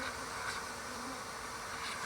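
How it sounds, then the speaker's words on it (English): A steady, dense buzz of many honeybees flying around a colony being removed, a continuous drone that holds even and close throughout. "Those bees you see flying around"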